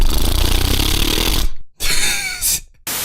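Voice imitating a plane's turbine spinning, as in the animated film The Wind Rises, a buzzy, rattling hum that cuts off abruptly, resumes, and stops again in short bursts.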